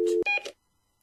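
Telephone busy tone right after a call is hung up: a short electronic beep, a brief break, then a couple of quick tonal bleeps that cut off into silence.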